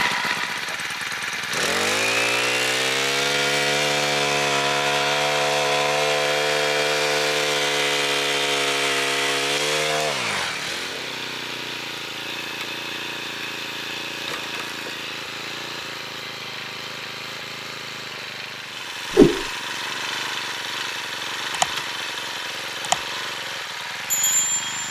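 Small engine on a portable winch revs up hard for several seconds, pulling under strain in the snow, then drops back to a low idle with a few clanks and knocks afterward.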